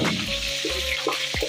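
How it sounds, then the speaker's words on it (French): Chicken frying in oil in a pan, a steady bright sizzle with a few clinks and stirring sounds, close and continuous without speech. "Passons à la friture"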